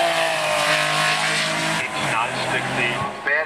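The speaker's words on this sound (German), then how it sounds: "Gestartet ist auch der Willi mit schönen Porsche 911 RSR" A Porsche 911 RSR race car at the 2014 Gurnigel hill climb roars past with a strained, high-revving engine note and gear shifts while a commentator talks over it.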